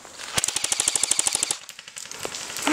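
An airsoft 300-round missile battery fires a rapid string of about twenty sharp cracks during a skirmish, fast and evenly spaced, then a few scattered pops as it trails off outdoors.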